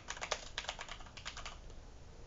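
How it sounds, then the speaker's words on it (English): Fingers tap quickly on a computer keyboard at close range, giving a short burst of light, uneven clicks that trails off after about a second and a half. "I click title and I type"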